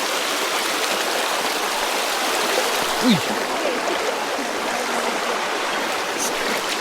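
A shallow stream in Gacat, Leyte rushes and gurgles with a steady broadband wash as a camera is dipped underwater, with a brief short exclamation from a voice near the middle.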